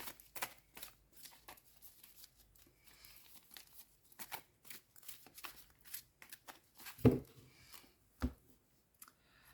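Oracle cards shuffled by hand during a tarot-style reading, with a quick run of soft papery riffles and flicks, close and fairly quiet, and a couple of sharper slaps near the end.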